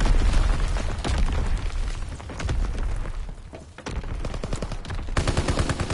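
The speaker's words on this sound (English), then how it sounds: "Incoming enemy artillery." Incoming enemy artillery in the World War II shooter Call of Duty WW2: dense, loud barrage of explosions and booms mixed with rapid machine-gun fire, continuous and close throughout.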